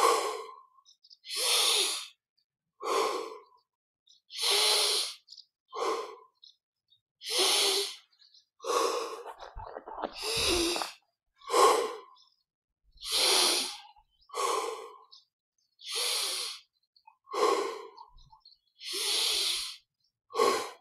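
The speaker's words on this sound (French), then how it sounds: "Expire par la bouche. 20 fois profondément." Deep breathing in a guided yoga-style session, inhaling through the nose and exhaling through the mouth, a steady series of about a dozen loud, close, breathy cycles at an even pace, with a rustling disturbance midway and no talking.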